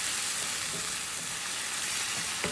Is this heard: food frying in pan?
yes